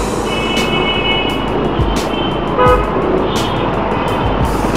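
TVS Jupiter scooter on the move, steady loud road and wind rumble with engine drone throughout, plus repeated faint horn toots from nearby traffic.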